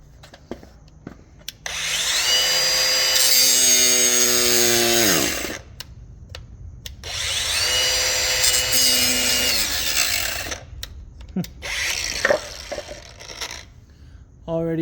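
A Ryobi cordless power tool grinds at plastic for an intake on a 2025 Honda Civic Si in two sustained, whining bursts with pitch that sags as the motor slows, separated by pauses and clicks.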